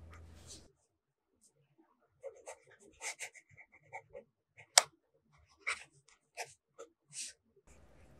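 Fountain pen with a double broad nib writing on paper, scratchy strokes coming as short scattered bursts, quiet and close, with a sharp tap partway through and brief low murmurs at the start and end.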